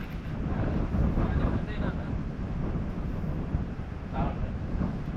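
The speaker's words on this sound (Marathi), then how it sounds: "वारा तर वारा भरपूर सुटलाय" Strong wind blows at the seashore outside Murud-Janjira fort, a loud, continuous rushing roar buffeting the microphone, with faint voices briefly audible beneath it.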